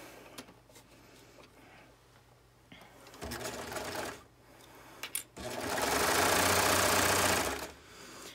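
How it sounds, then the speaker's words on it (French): Serger overlocker with four threads stitching lined mittens, first quiet handling, then a short burst of stitching and a longer steady mechanical whir of about two seconds, close and loud. "Donc, on va rapprocher la surjeteuse."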